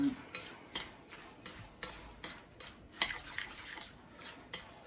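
A spoon stirs salsa ingredients in a bowl with repeated rhythmic clinks and scrapes against the sides, about a dozen close strokes at a steady pace.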